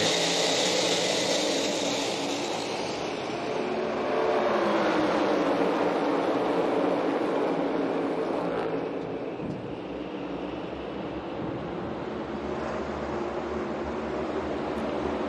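NASCAR Cup Series stock cars take the green flag at the Coca-Cola 600, a dense, loud roar of the pack that swells and then holds as a continuous rumble.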